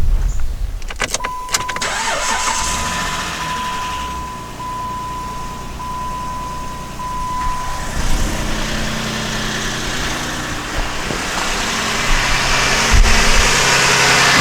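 A Jeep Commander engine cranks and starts, then settles into a steady idle with some light ticking, heard close up with no talk over it.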